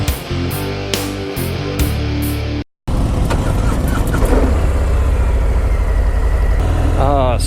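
A 2018 Harley-Davidson Softail Fat Bob motorcycle engine runs steadily, first with a low throbbing idle and blips, then after a brief cut a louder continuous rumble as it rides, with some talk.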